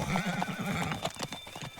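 A horse in the video game Teardown whinnies with a wavering neigh, then its hooves clop in quick irregular beats, close and clear over a few seconds with no talk.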